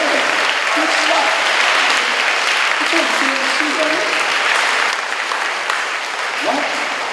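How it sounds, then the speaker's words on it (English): An audience at a school spring band concert applauds with steady, dense clapping that fills the room for several seconds and then thins slightly. Faint voices sound beneath it. "let's have a round of applause for him for your representative"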